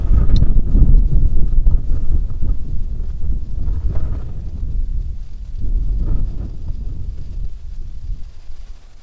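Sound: wind flapping a windscreen

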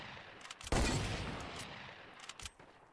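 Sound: gunshots in Wild West video game mode

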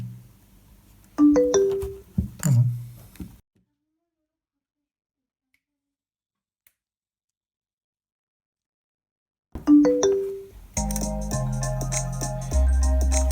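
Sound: music playing from flash drive through small amp and JBL bass speaker

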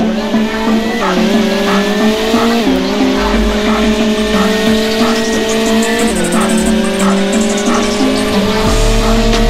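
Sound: McLaren Senna race cars drag racing on beach, Roblox Vehicle Legends video game

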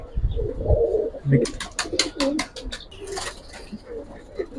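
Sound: Giribaj and colouring pigeons cooing in a loft

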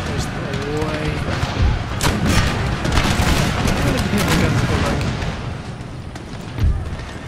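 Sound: artillery cannon fire in Empire: Total War video game

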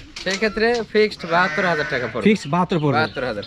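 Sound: Totapuri and Beetal dairy goats bleating

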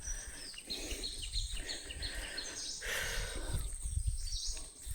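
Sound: birds calling in the Sundarbans forest

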